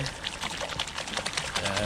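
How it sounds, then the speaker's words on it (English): A brush swirling soapy water in a bucket for washing a bike, giving quick sloshing and splashing swishes in a busy, continuous patter. "Then you get your brush, just mix it around."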